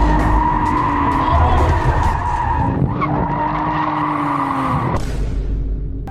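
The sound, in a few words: BMW E36 drift car skidding on a lap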